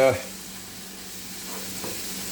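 Onions sautéing in a pan, a steady close sizzle with faint stirring, opening with a brief louder clatter before settling into an even hiss.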